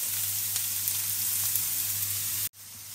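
Vegetables stir-fried in hot oil for pancit bihon give a steady, close sizzle. A low hum runs underneath, and the sound breaks off abruptly near the end before resuming.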